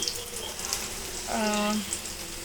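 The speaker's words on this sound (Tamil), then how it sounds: "நல்லா எண்ணெய் ஊற்றி கடுகு போட்டு ஒரு 2 பச்சை மிளகா கீரி போட்டு" Mustard seeds and green chillies sizzle in hot oil while prawn thokku is being prepared. The steady crackling hiss runs through the whole moment, close and fairly loud, and a voice briefly sounds over it.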